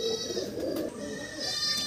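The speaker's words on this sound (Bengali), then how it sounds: "এটা সেন্সিদার বাড়ির ফুলসেরা জেনারেশনের পায়রা" Pigeons at a home loft coo softly and repeatedly at close range, the low murmuring calls overlapping in a continuous stream, with faint higher chirps in the background.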